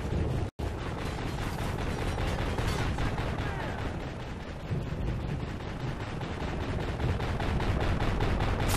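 Continuous video game gunfire and explosive battle noise, dense and loud throughout, with rapid repeated shots layered under faint combat sounds.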